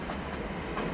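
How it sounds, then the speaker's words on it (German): An intercity train rumbles steadily past close by through a station, a dense continuous roar with faint rhythmic clatter throughout. "warum fährt ein IC durch den Gang hier?"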